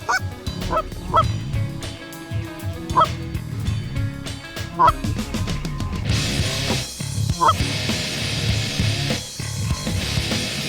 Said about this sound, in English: Tons of geese in the area. They're coming back from feeding.